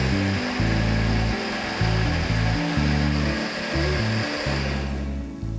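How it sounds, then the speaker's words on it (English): A blender blitzing spinach with water runs as a loud, steady whirring roar with stuttering low pulses, close and continuous before cutting off at the end. "Pop 150 grams of spinach in a blender with 150 ml of water."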